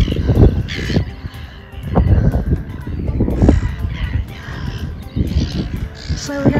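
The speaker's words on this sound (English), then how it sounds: "Seagulls screaming their heads off." Seagulls calling loudly and repeatedly at a rocky Rockingham, Western Australia shoreline where pelicans fly overhead, harsh cries overlapping against steady wind and outdoor noise.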